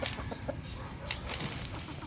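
Chickens clucking in a farmyard, a few soft, irregular clucks under steady low background noise.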